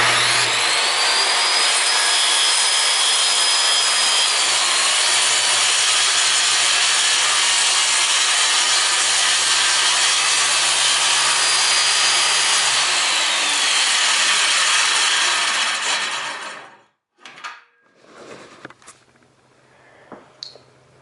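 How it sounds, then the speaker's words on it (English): A saw cuts steadily through wood for a workbench, a continuous loud rasping drone lasting about sixteen seconds before stopping abruptly, followed by a few faint knocks and handling sounds. "Run my saw."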